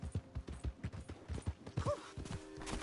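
Horse hooves clip-clopping in the Red Dead Redemption 2 video game, a steady run of close, loud thuds with shouted voices and game sounds around them.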